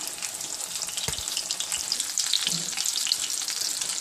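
Panko-breaded shrimp frying in oil in a pan, a steady close sizzle with light crackles and a couple of soft utensil knocks, no talking.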